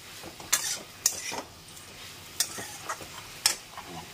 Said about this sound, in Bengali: বড়িটাও ঢেলে দিলাম